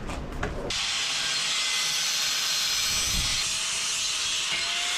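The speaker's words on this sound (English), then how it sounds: "Now I'm just going to cut through here and take this off." A metal engine stand bracket for a VR5 engine is cut through, a sustained, harsh high-pitched grinding whine that starts abruptly after a brief pause and continues steadily, close and loud, with no talking.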